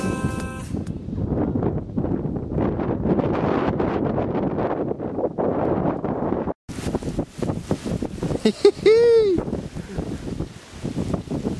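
Wind buffets the microphone while surfing on open water, a dense roaring rumble that persists throughout, cut briefly before resuming, with voices speaking over it.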